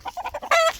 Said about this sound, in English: We'll show y'all the other chickens here.